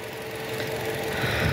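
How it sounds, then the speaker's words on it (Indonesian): Toyota Camry 2.5 engine with a worn, loose balancer shaft gear runs with a rough, rapid knocking rattle, a short steady mechanical clatter close by that builds slightly in loudness. "menimbulkan bunyi gredek-gredek-gredek, bunyi kasar di mesin ketika mesin awal dihidupkan"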